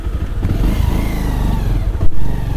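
A motorbike slips on a rain-soaked road on New Year's Day, its engine loud and close, roaring and revving with a clattering surge near the end.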